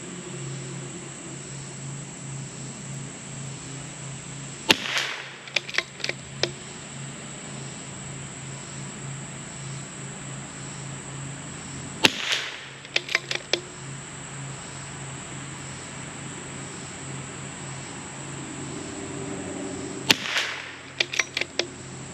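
A CZ 457 MTR rimfire rifle firing SK Biathlon Sport match ammunition outdoors, sharp close shots spaced several seconds apart, a few in quick clusters, over a steady hum of background noise with no talk.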